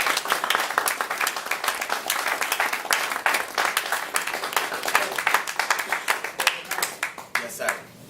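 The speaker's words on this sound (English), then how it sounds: "I just want to give him a hand clap for receiving." Brisk, energetic audience applause with many hands clapping at a community gathering, dense rapid claps sustained for several seconds before tapering off toward the end, fairly loud and close.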